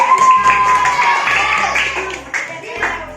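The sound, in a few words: applause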